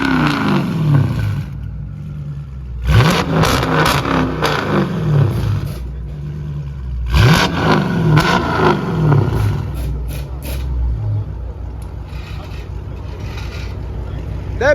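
A Dodge Challenger Scat Pack with catless straight-pipe exhaust revs hard in a few loud, raw bursts, each a rising roar that drops back to a rumbling idle, with voices talking in between.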